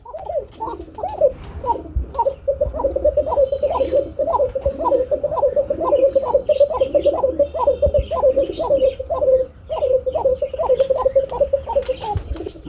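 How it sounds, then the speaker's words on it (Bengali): A pair of Shalik Kuka pigeons coos steadily and close by, a long run of evenly spaced, rhythmic coos repeating throughout with a few soft chirps and wing sounds in the background. "এটা হচ্ছে বন্ধুরা শালিক কুকা এটা প্রচুর পরিমাণে ডাকে"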